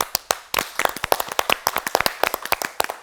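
Clapping for an athlete on a yoga and fitness show, a few sharp individual claps first, then a quick group of hands clapping in brisk uneven rhythm, close and crisp.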